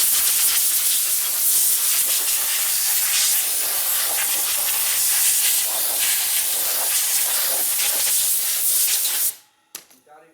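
Compressed air nozzle blasts a loud, steady hiss close by for about nine seconds, used while cleaning Harley parts, then cuts off abruptly, leaving a few faint clicks and handling sounds.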